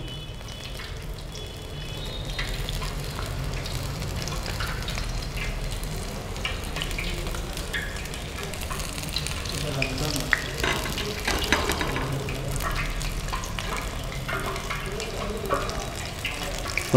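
Battered vegetables deep-frying in hot oil in a hotel kitchen training session, giving a continuous moderate sizzle with crackling bursts that run the full length, with faint talk in the background.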